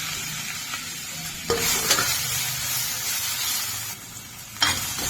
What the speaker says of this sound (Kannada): ಇದು ಮಾವಿನಕಾಯಿ ಹಾಕಿ ಕಾಳಿಸ್ಬೇಕು.